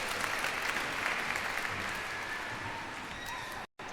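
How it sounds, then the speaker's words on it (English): Children and listeners at an orchestra show clap for themselves after singing a nursery rhyme, a steady, fairly quiet ripple of applause that cuts off abruptly just before the end. "Give yourselves a clap."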